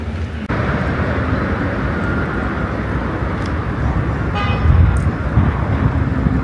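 Loud, steady roar of road traffic in Tashkent, mostly Chevrolet cars, with engines passing close by and a brief horn toot near the middle, no talk over it.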